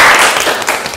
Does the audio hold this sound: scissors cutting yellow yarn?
no